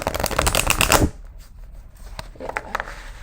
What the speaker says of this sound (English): I kind of want to shuffle these. They're fresh cards.